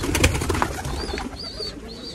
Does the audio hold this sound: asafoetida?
no